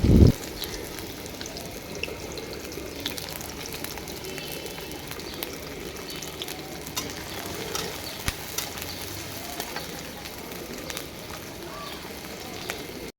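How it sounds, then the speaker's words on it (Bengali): Sliced onions and green chillies frying in hot oil in a wok, giving a continuous soft sizzle and hiss at moderate level throughout, with faint household background sounds. "এখন এই পেঁয়াজটা ভাজা ভাজা করব আর কাঁচামরিচও দিয়ে দিলাম"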